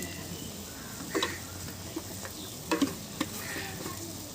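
Okra tamarind stew stirred in a pot on a wood-fired stove, with a few scraping strokes and clinks over a faint steady simmering sizzle, quiet and close, no talk.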